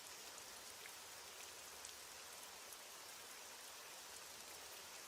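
Rain falls in a soft, even hiss with scattered faint droplet ticks, a quiet, continuous background with no voices.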